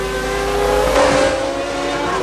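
Formula 1 race cars at the 1995 Japanese Grand Prix roar past in wet conditions, a loud sustained engine whine that swells sharply for a moment as a car passes close, heard under broadcast commentary.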